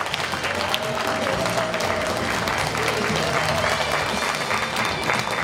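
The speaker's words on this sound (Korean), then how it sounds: "고생하신 당대표 및 최고위원 후보자 모두에게 격려의 박수를 부탁드립니다." Steady sustained applause from a large audience at a Democratic Party leadership candidates' joint speech rally in Jeju, dense continuous clapping with crowd noise throughout.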